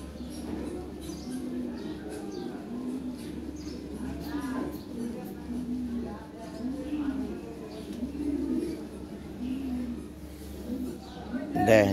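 Lahori pigeons in a breeding pair cooing in a steady repeating rhythm, a low rolling coo recurring every second or so, close and moderately loud, with faint chirps and background noise.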